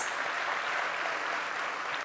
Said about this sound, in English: Ladies and gentlemen, they deserve a thunderous applause